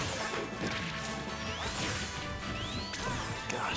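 Ike's heavy sword hits in Super Smash Bros. 4, loud crunching impacts with swishing whooshes, several strikes packed into a few seconds over a busy, dense game mix.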